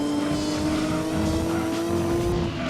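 Race car engine in Gran Turismo 2, running on road tyres, with a steady whining tone that climbs slightly in pitch as the turbo spools up, loud and continuous under engine roar.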